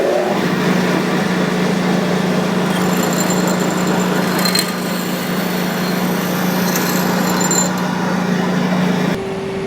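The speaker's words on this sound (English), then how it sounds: "after running it through the polisher, we still have plenty of depth on that engraving" A Scotch-Brite wheel polisher runs on a laser-engraved metal part, a loud, steady motor hum with a constant abrasive whirring and brief higher scraping accents, then cutting off near the end.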